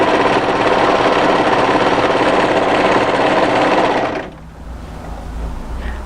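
An overlocker stitches the shoulder seam of a winter sweater, a steady loud mechanical whir with rapid rhythmic needle chatter that runs for about four seconds, then stops abruptly, leaving a quieter low hum.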